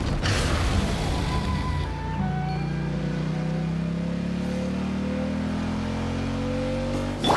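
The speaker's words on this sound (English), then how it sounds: "Rev the engines!" A game vehicle engine revs up in Genshin Impact during a summer resort event ride, a steady loud roar whose pitch climbs gradually over several seconds, carrying on alone without talk.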